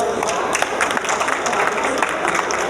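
Audience applause at a panel on sustainable gold mining at a legislative assembly booth, a dense, steady patter of many hands clapping throughout with some crowd murmur.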